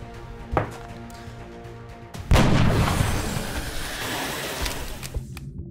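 Gunfire from a soldier in XCOM: Enemy Unknown: a single heavy, booming blast crashes in near the middle and rolls out into a long, loud rumbling tail, with a smaller thump earlier over a steady low game drone.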